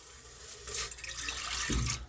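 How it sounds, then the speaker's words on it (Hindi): Water from a glass poured into an empty cooking pot while preparing palak paneer, a short splashing pour that swells in the middle and ends with a brief low slosh. "हम एक बर्तन लेंगे और उसमें डाल देंगे एक गिलास पानी"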